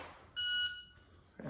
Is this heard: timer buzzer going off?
yes